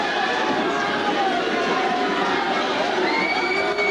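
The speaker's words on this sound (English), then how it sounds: "and a big cheer goes up" A crowd at a 1993 East Hall vs West Hall regional championship basketball game cheers loudly and steadily in a big gym, with shouting voices sustained throughout.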